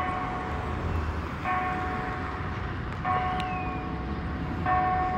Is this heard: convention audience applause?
no